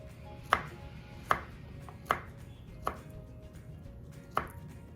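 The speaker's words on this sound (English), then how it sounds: "I'm going to slice a whole banana" A banana is sliced on a plate, producing five evenly spaced, crisp knife taps against the plate, close and fairly quiet with little else around them.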